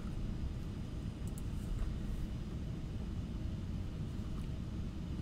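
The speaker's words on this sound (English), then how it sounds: "We're just taxiing to your gate right now." A fixed-wing airliner taxis toward the gate, a steady, even low rumble of engines heard from inside, with no voices.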